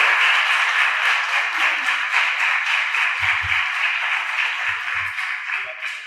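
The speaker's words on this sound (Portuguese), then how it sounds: "uma salva de palmas para a nossa fenomenal apresentadora" An audience at a university science event in Rio de Janeiro applauds the presenter, a steady, even roar of many hands that holds for several seconds and fades slightly at the end, with a few low thumps underneath.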